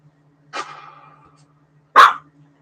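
A dog barking indoors, two loud separate barks spaced about a second and a half apart with silence between.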